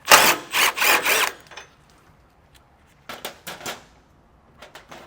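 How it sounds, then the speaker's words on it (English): Ratchet removing a factory bolt from a vehicle frame during a base plate installation, with bursts of rapid metallic clicking, a steady run at the start, then shorter clusters after a pause, close and loud. "So we'll remove this bolt."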